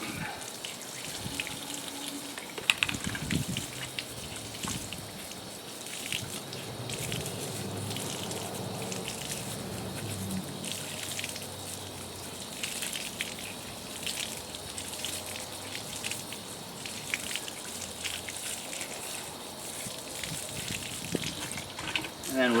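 Water runs steadily while an aquarium reactor is rinsed out during a reef tank service, a continuous close splashing rush with occasional clatter of the parts.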